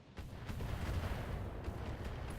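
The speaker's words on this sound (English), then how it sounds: "We're going to see some missiles coming at us." Missiles strike a heavy mech in BattleTech, a dense rolling barrage of low explosive booms and rumbling impacts sustained throughout at moderate loudness.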